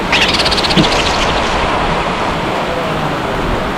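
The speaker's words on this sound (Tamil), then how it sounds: "சரியான மழை." Heavy rain pouring down outdoors along a road while cycling, a dense, steady hiss of falling water with a faint bird chirp near the start.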